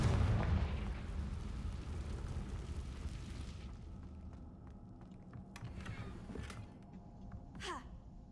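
A Confringo fire spell explosion in Hogwarts Legacy, a loud low boom at the start that rolls into a long fading rumble, with faint game ambience and a brief whoosh near the end.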